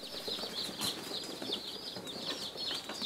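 A box of about sixty Cornish Cross chicks peeps continuously in a dense, high chorus of overlapping chirps, steady and fairly close, with some rustling beneath.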